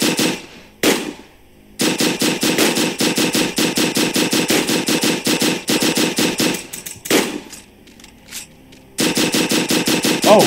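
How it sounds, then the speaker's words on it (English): Rapid automatic gunfire from the Roblox game Zed Tycoon, with loud sustained bursts of shooting at zombies broken by short pauses, up close and with no talking. "Zombie's right in front of us, and I shot it."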